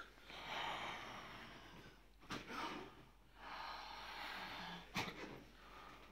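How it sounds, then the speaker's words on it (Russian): During a manual therapy session a person breathes out slowly in soft, airy exhalations, faint and close, with a couple of brief sharp rustles or snorts between them and no speech. "теперь выдох."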